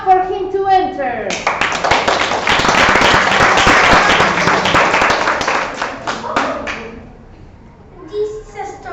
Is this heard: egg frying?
no